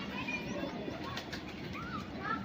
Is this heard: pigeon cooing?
yes